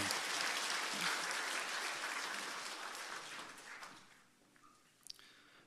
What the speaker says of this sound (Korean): 우리 모든 예식을 허락해 주신 하나님께 감사 박수하겠습니다